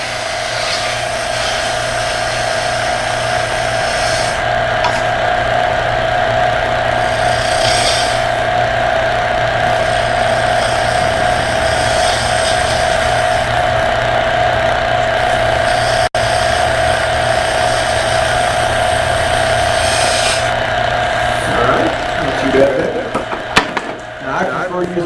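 A wood lathe spins a spindle with a steady, loud hum, while a skew chisel cuts it in scraping bursts. A voice talks over the machine throughout.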